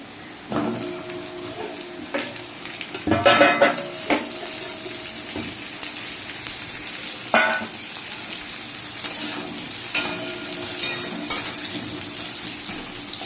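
Potatoes hit a hot pan for a fish roe curry and sizzle steadily up close, with scattered clinks and scrapes of a spatula against the pan.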